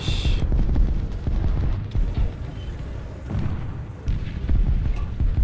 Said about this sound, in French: il y a des tirs là, des échanges de tirs